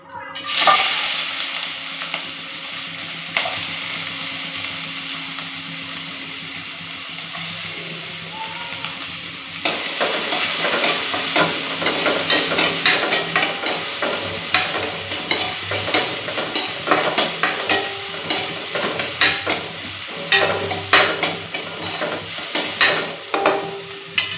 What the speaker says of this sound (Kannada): ಈಗ ಬಾಳ್ಗಿ ಒಳಗೆ ನಾನು ಇನ್ನೊಂದು ಸ್ವಲ್ಪ ಎಣ್ಣೆ ಹಾಕ್ಕೊಂಡು ಉಳ್ಳಾಗಡ್ಡಿ ಮತ್ತು ಟೊಮೆಟೊ ಕರ್ಕೊಂಡ್ಬಿಡ್ತೇನೆ